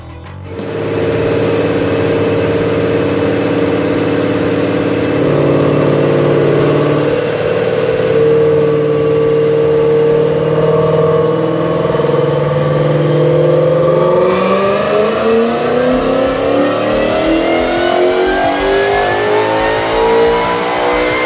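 A Roush TVS supercharged Mustang engine fitted with a twin 68mm throttle body runs on a dyno, its loud roar climbing steadily in pitch through a long sustained pull with supercharger whine, then easing off near the end.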